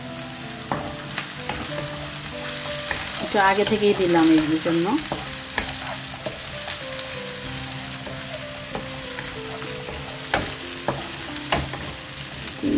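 Prawns frying and being stirred in a pan for a prawn and water-lily-stem curry: a steady sizzle with scraping stir strokes that grow busier midway, and a short spoken remark over the cooking.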